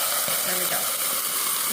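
Egg rolls frying in hot oil in a pan, a steady close sizzle and hiss filling the short moment, with faint clinks over it.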